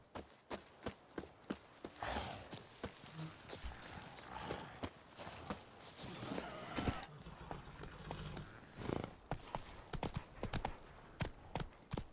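Hooves of a horse in The Witcher 3 clip-clop in a steady, rapid rhythm of sharp, distinct hits over soft game ambience, fairly close and clear throughout.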